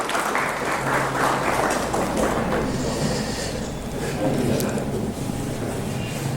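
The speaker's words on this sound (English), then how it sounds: "Please have a big round of applause." Lecture-series audience at Aligarh Muslim University applauding as a memento is presented, a continuous wash of clapping from a large hall with some background murmur mixed in.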